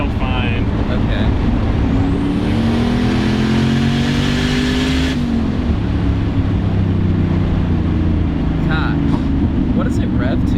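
A 700 hp sleeper Volvo car's engine revs loudly and steadily up close, its pitch climbing and then dropping back to a sustained drone, with a few brief ticks near the end.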